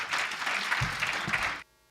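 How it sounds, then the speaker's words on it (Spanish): Brief burst of audience applause welcoming a speaker to a history talk, dense clapping that stops abruptly. "Vamos a recibirle con un aplauso"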